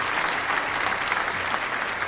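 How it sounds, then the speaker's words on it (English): An audience at a talk breaks into dense, steady applause, with many hands clapping evenly throughout and no speech over it. "Applaud her."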